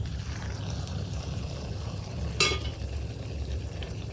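Bengali oil pitha, a rice cake, frying in hot oil on a stove, giving a steady low bubbling sizzle throughout with one brief sharper crackle midway, heard alone without voices.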